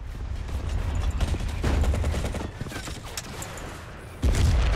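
Rapid gunfire rattles in Battlefield 1942, bursts of shots and thuds amid loud battlefield noise, with a heavy low blast near the end that fits a grenade explosion; no talk.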